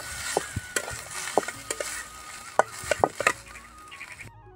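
A spoon stirring fresh coriander into a cooking mixture in an outdoor farm kitchen, with irregular scraping clinks and soft knocks against the pan over a faint background hiss, ending abruptly.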